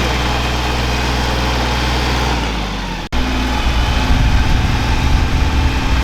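A Yanmar tractor engine runs loud and close with a deep, steady idle chug. Midway it cuts out briefly, then restarts rougher and more uneven before stopping abruptly at the end.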